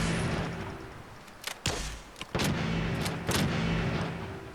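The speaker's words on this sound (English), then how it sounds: "So we can fire from here." Fallout 4 combat gunfire: a few sharp, booming shots spaced irregularly over a low steady rumble of background noise, moderately loud with no talking.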